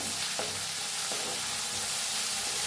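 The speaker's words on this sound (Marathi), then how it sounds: "लसून वाटून घेतलेलं घालूया पत्ता त्याला हलवून भाजून घेऊया चांगलं" Ground garlic fries with cumin and asafoetida in a pan for kadhi, a steady close sizzle with a few soft stirring scrapes and no voices.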